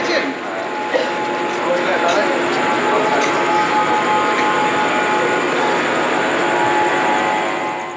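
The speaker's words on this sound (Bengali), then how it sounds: "আমাদের ট্রেন ছাড়লো আজিমগঞ্জ স্টেশন থেকে" Kolkata–Radhikapur Express departing Azimganj station's platform 1, a loud steady rushing roar of the moving train that holds evenly throughout, with a faint hum running underneath.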